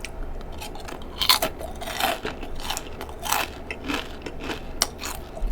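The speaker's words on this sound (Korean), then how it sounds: "바삭바삭한 건 일품이다 진짜 와 바삭바삭하다" Crispy KFC hot wings fried chicken are bitten and chewed up close, with a series of sharp, loud crunches at irregular intervals and no speech.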